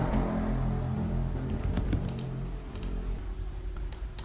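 Keys tapped on a computer keyboard to type a TR command, then Enter pressed twice, heard as scattered sharp clicks over a steady, loud background hum with no talking.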